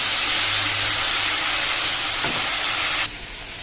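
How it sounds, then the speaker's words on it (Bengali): Shrimp fry in a hot pan with a loud, dense, continuous sizzle that drops away abruptly near the end; no one speaks. "তো চলো চিংড়ি মাছটা ভেজে নিই।"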